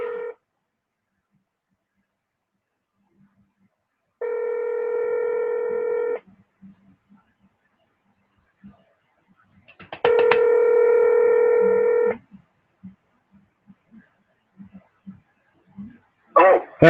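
Telephone keypad dialing tones while a caller rings someone back, two sustained bursts of multi-tone beeping separated by quiet, with faint clicks and a voice briefly at the end.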